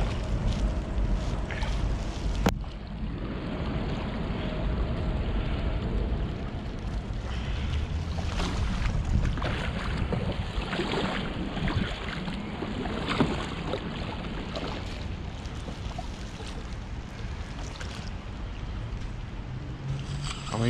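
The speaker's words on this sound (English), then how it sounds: "You're doing a great job paddling." A ski kayak paddled along canal water at Limehouse Basin, giving a steady wash of water splashes and paddle strokes with wind noise on the microphone and a sharp knock early on, without speech.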